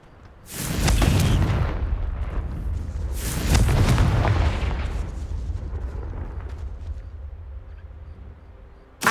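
Two heavy booming blasts from fire spells in the video game Hogwarts Legacy, each a loud broadband burst near 1 and 3.6 seconds that rolls into a long rumbling decay, with a sharp click at the very end.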